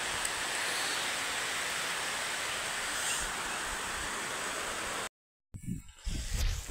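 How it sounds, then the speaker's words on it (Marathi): Heavy rain falls outdoors under trees as a steady, dense hiss for about five seconds, then cuts out briefly before a few rougher, closer rustles and knocks. "मी व्हिडिओ चालू केला की लगेच जोरात पाऊस येतोय बघा"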